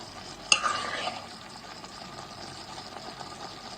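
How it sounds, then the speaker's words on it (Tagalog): Guava simmers in coconut milk in a pan as a spoon clinks once against the side and keeps stirring, leaving a soft, low bubbling and sizzle, close and fairly quiet. "Haluin ulit natin."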